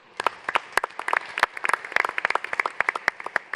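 A conference crowd at the Africa Investment Forum breaks into lively applause, many hands clapping at once in a dense, steady patter for a few seconds.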